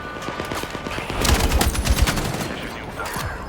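Video game gunfire crackles in a short burst of rapid shots, louder in the middle and fading again, with a bit of speech-like sound underneath.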